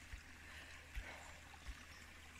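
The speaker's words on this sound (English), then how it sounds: "This is down in the trickle of a little stream from the river." A little stream trickles off the river through muddy, slippery forest ground in Gowan Valley, giving a steady, close, even watery hiss broken by three soft low thumps, with no talking.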